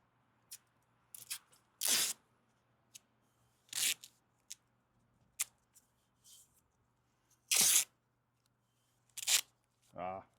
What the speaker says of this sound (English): I'm just going to add some tape to it